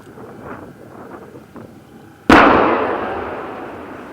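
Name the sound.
81mm mortar blast contained in a bund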